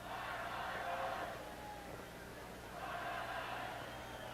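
A soccer cheering section for the Kicks chants in a rising and falling roar, with two broad swells of massed voices heard from a distance.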